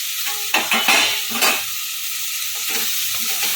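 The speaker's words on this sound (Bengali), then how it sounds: "এখন ভেজে রাখা আলু বেগুনটা এর মধ্যে দিয়ে দেবো" Fried potato and eggplant pieces going into a pan of tomato masala for masala baingan, with loud bursts of sizzling and spoon scrapes at first that settle into a steadier fry.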